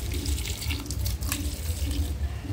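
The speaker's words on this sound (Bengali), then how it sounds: "দেখো অ্যালোভেরা গাছে পানি দিতে এসেছে" Water splashes steadily onto an aloe vera plant, a continuous close pouring and trickling with no voices over it.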